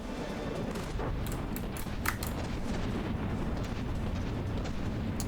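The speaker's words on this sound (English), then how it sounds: "Mortars are coming down too." Mortar shells landing during a battleship fight in the game From the Depths, a dense continuous rumble of explosions and gunfire with a few sharper blasts standing out, no voices.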